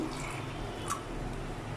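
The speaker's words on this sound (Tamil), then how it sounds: "மிக்சி ஜார்லேயே கொஞ்சம் தண்ணி ஊற்றி" Water poured into a mixer jar in a home kitchen, giving a short, steady trickling pour close by with a faint splash, no voices.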